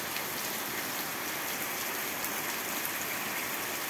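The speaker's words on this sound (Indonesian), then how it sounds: "Ini hujannya pun deras banget." Heavy rain pours down in a dense, constant hiss of drops hitting surfaces, loud and unbroken throughout.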